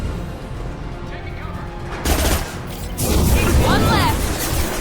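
Gunfire and blasts from the Mass Effect video game, a short exchange of shots set near a conveyor line, loud and close with bursts of noise and a whistling sweep near the end.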